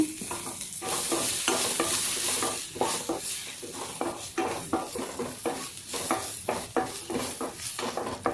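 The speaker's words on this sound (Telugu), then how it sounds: "కాస్త బ్రౌన్ కలర్ వచ్చేటట్టుగా వేయించేసుకోవాలి ఈ ఆనియను" Thinly sliced onion browning in a pan for palak paneer, a steady sizzle broken by repeated scraping stirs of a spatula against the pan, close and fairly loud with no talking.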